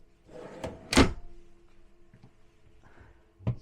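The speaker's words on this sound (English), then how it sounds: "you have these drawers that go all the way back, 3 of them" Deep hardwood cabinet drawers in a 2010 40-foot Magna slide and thunk, with a couple of sharp knocks close by, a softer slide in between and another firm bump at the end.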